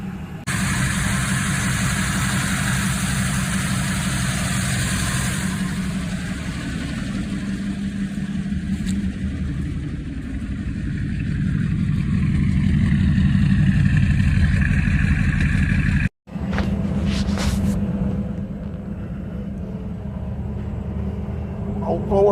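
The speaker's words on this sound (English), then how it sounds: "Old Ford going down the road." A 1953 Ford Crown Victoria on its first drive after revival, its engine running steadily and loud as the old car travels down the road, with a brief cut partway through.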